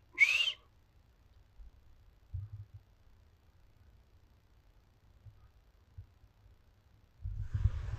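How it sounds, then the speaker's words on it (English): A single short, bright whistle from a person rings out at the start on a quiet night outdoors in the Coquille woods, followed by long stillness, faint low rumbles and a rush of wind or movement near the end. "Let me try a couple whistles."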